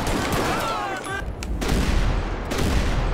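Rapid, heavy blasts from an automatic shotgun in GTA V during a chaotic gang shootout, booming shots fired in quick succession and overlapping with other gunfire and crashes, loud and close throughout.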